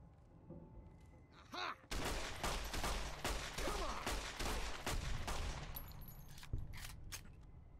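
Rapid 9mm pistol fire in the video game Fallout, a run of sharp, evenly spaced shots cracking out one after another with a few quieter sounds before the volley.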